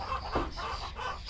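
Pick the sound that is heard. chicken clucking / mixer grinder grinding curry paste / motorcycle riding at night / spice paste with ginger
chicken clucking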